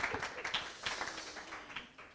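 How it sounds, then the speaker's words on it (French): Audience applause in a conference hall, a modest scattering of hand claps from a small crowd, fairly soft and uneven, tapering off toward the end. "on applaudit aujourd'hui"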